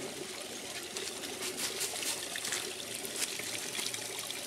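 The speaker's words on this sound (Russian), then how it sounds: "Вот там вот из трубы тоже родничок течет." Spring water running from a pipe in an autumn forest in Stavropol, a steady close hiss of trickling flow with no voices.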